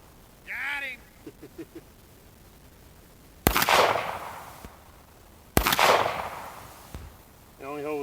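An old pistol fires two sharp, loud shots a couple of seconds apart at practice targets on a hill, each with a ringing echo, with a voice speaking before and after.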